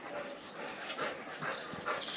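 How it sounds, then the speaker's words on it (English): Small dogs whimper and yip faintly in short, scattered bursts as they play and brawl, with no one talking. "The little dogs are brawling"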